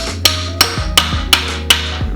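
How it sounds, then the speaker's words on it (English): Metal hammer strikes on a rebuilt Toyota 2JZ engine during teardown: five sharp, loud blows in a steady rhythm about a third of a second apart, ringing briefly over a low mechanical hum. "What we're going to have to do is we're going to have to hammer it in."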